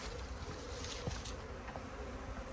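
Bees robbing and attacking a colony at a Paynes poly hive make a thick, constant buzzing close by, with a few louder individual passes rising briefly above the hum.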